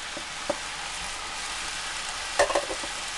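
Onions being added to chicken frying in a pan over a steady, fairly quiet sizzling hiss, with a small clatter early and a short louder burst of crackling near the end; no one speaks.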